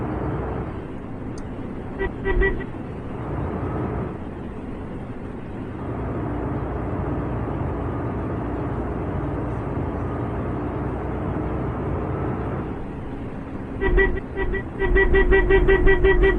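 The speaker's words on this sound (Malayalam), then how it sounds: "നമ്മളങ്ങനെ ഹോൺ അടിച്ചടിച്ച് പോവുകയാണ്" A lorry carrying rock at night honks repeatedly while overtaking through traffic on a road. Short, blaring horn bursts come over a constant engine and road rumble, with a longer run of honks near the end.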